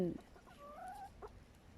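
Chickens clucking outdoors in the snow, a few short close clucks and one drawn-out call rising over a quiet background, moderately faint.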